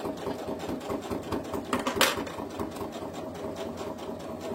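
A sewing machine runs rapid, steady stitches through a fabric snood, sewing forward then back to lock the seam, close and continuous with a brief louder burst midway.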